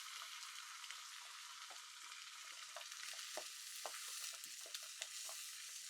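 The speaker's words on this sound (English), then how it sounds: "Just gonna keep moving the egg mixture around." Egg mixture for a veggie omelette sizzles gently in a pan while being pushed around, a soft continuous frying crackle with scattered light scraping ticks, fairly quiet and close.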